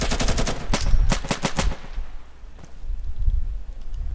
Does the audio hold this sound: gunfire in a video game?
yes